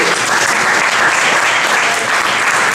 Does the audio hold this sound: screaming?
no